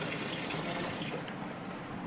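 Water being poured into an air cooler during summer at home, a steady continuous splashing gush, close and fairly loud, running alone without speech.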